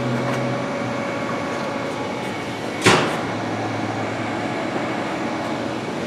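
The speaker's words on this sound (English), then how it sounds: "Got the spindle running right now." A Haas VF-2SS vertical machining center spindle runs with a quiet steady hum and whine, broken midway by one brief sharp clunk.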